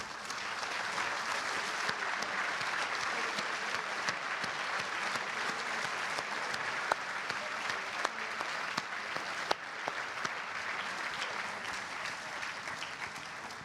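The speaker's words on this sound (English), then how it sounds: "Give yourselves a massive round of applause." A large crowd at the Formula Student closing and awards ceremony applauds steadily, a dense, sustained wash of clapping that holds at an even level throughout, with a few sharper claps popping out near the end.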